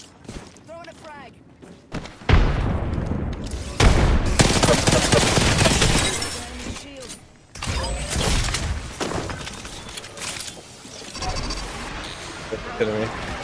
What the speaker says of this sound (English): Throwing a frag.